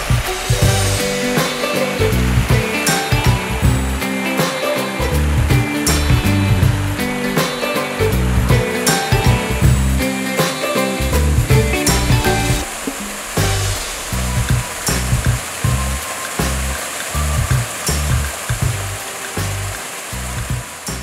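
The stream at Chan Ta Then waterfall in Si Racha, Chonburi, flows with a loud, steady rush of water and dense broadband splashing that stays constant throughout, with no voices.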